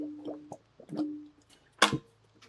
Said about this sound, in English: I'll be taking a drink of water. Apologize for the silence and gurgling.